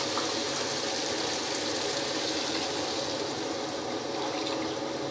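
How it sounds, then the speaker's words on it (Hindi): Water poured into a pot of sautéed vegetables and peas for vegetable pulao, a steady close gushing splash that runs unbroken and fairly loud with no voices. "अब पानी डालेंगे।"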